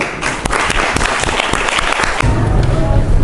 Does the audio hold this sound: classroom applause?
yes